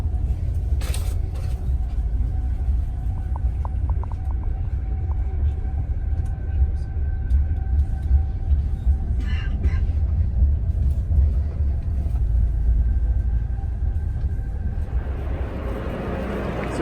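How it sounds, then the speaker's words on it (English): Steady low rumble of a passenger train ride in a first-class carriage on the way to Medina, loud and continuous throughout with faint clanks and rattles and a swelling noise near the end. "we come off the train on this side."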